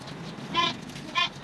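Two short bleats from goats being bathed, including Boer goats, about half a second apart, heard at moderate distance over a faint background hum.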